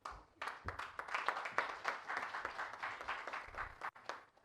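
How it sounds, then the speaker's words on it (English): An audience at the Kenya Diaspora Homecoming Convention claps for a speaker, a moderately faint, uneven patter of hands from a modest crowd lasting a few seconds and dipping briefly near the end. "A round of applause for Paul again"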